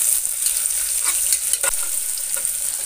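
Onions and green chillies sautéing in a pan for prawn biryani, giving a loud, continuous hiss and sizzle with faint scraping stirs and no voices.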